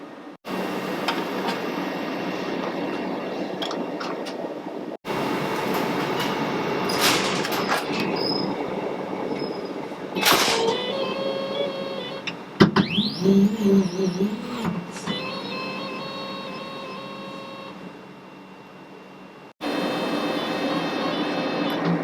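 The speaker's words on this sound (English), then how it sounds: "here we can move the entire bed on which the material rests on up and down" A laser cutter's material bed motor-driven up and down, a steady mechanical whir running in long stretches, broken by a few short pauses and clunks, heard alone and fairly loud.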